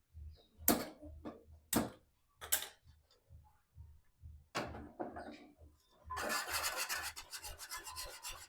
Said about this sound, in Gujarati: અને આપણે આમને આમ હલાવતા રહેવાનું છે જો હલાવશું નહીં તો નીચે છે એ તરહનો લોટ જામી જશે